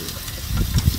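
Chow mein stirred in a hot pan, a brief close burst of hissing sizzle with low rumbling scrapes of the utensil building toward the end, with no voices.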